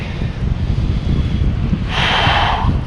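Outdoor wind buffets the microphone in open air near the water during hydrofoil winging, a constant loud rumble with a brief breathy gust toward the end.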